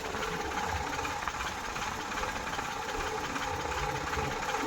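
A tractor engine idles in neutral, giving a steady, dense mechanical rumble with a rattling, sewing-machine-like chatter that holds at an even level throughout, with no talk over it.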